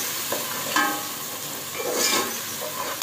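Ground masala spices frying in hot oil in a pan for chickpea pulao, a steady close sizzling hiss with a few stirring scrapes and brief bursts of crackle, no talking.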